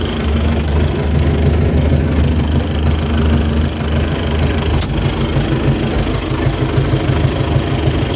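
A DF 404 minitractor engine idles, heard from inside its cab, a steady low rumble and drone with a faint rattle that runs evenly throughout with no speech.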